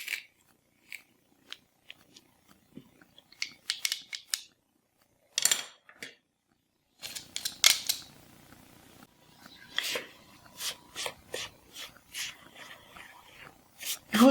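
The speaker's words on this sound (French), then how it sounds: "Il faut simplement mélanger." Crumble ingredients for a plum crumble being mixed in a bowl, with irregular scraping, clicking and crumbling sounds in short close bursts separated by brief pauses.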